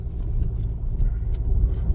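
Steady low engine rumble and road noise fill the cabin of a car while driving, a constant close drone with no talking.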